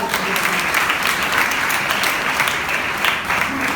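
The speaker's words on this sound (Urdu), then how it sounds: "آئے زوردار تالیاں اس کے لیے" A church congregation breaks into loud, sustained applause after a sermon on Naomi, Ruth and Boaz, a continuous roar of many hands clapping at steady volume throughout.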